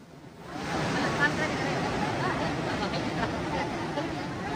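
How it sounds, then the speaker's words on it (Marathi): Flooded river running high below the riverside shrine at Puntamba, a broad steady rush of water heard from the bank, loud and continuous throughout. "पाहू शकता कशा प्रकारे नदी भरून वाहत आहे"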